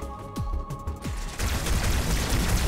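Needler fire in the video game Halo 2: rapid sci-fi weapon shots that start at about 1.4 seconds and keep going as a dense, loud barrage, with sharp pops and descending whistles in the first part.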